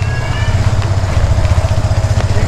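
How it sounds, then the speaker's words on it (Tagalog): A motorcycle engine runs under a bridge, a loud, close, continuous low throb with a slight rhythmic pulsing and no voices. "may motor sa ilalim ng tulay"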